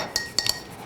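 A spoon clinks against a glass while a Bloody Mary made with fresh tomato mix and lemon is stirred, giving a few quick, bright taps close by.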